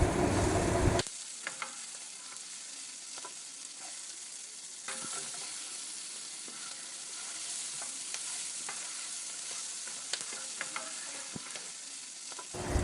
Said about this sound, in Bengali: এই পেঁয়াজ আর রসুনটাকে আমি মিডিয়াম টু হাই ফ্লেমেই ভাজবো